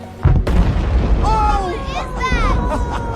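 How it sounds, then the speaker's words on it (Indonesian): Building in the Netherlands deliberately blown up by resistance fighters: a sudden deep boom and a second burst, followed by voices talking and calling out over a lingering rumble. "pasukan pejuang sengaja meledakkan bangunan itu"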